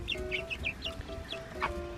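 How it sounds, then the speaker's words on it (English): Red sex link chickens cluck in a quick series of short, soft calls over a low background hum, with one slightly louder squawk near the end. "who thinks those are red sex link chickens?"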